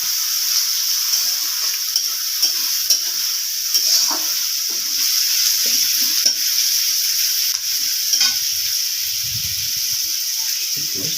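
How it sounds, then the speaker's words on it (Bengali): Finely chopped onions sizzle in hot oil in a pan on a home kitchen stove for a Bengali fish curry, with steady close frying hiss and intermittent scraping clicks of stirring throughout, no talking. "একদম লাল লাল করে ভেজে নেব।"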